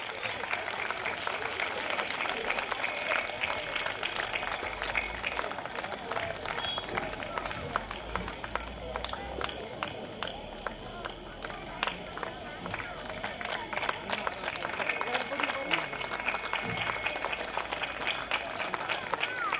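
An audience at a nursery and primary school annual day keeps up steady, dense clapping throughout. The sound is a continuous patter of many hands, moderately distant, with a faint murmur of crowd noise underneath.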